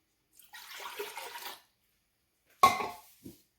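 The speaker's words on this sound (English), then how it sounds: "2 cups of water going right in." Water pours into a pot of coconut milk for ginataang bilo-bilo, a soft stream lasting about a second, followed by a sharper splash and a small clunk.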